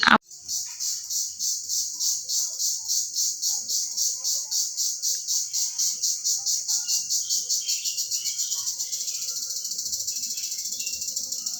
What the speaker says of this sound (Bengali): অবশ্যই এই পাখি ডাক শুনে জানাবেন যদি চিনে থাকেন